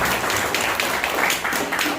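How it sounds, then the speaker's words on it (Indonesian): Steady applause from a crowd, dense clapping continuing evenly throughout without pause. "Tepuk tangan buat kalian"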